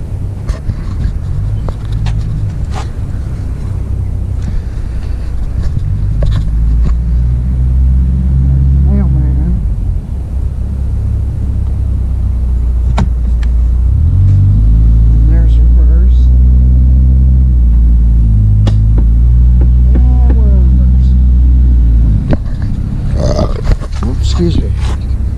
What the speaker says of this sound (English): Now we can fire this thing up and test it out.